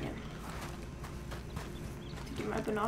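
Rhythmic clip-clop of horse hooves in a roleplay video game, steady and moderately close, with someone talking over it.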